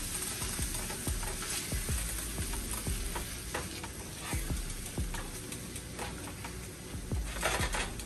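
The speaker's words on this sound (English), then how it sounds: "we got that steak inside of that chipotle sauce as well. You guys, we are going to let that sit and simmer" Steak simmers in chipotle sauce in a pan, making a loud, dense, continuous bubbling sizzle with soft clicks and pops and a few light stirring knocks, no voices.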